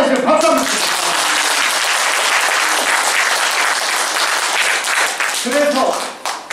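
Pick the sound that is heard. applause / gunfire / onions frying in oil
applause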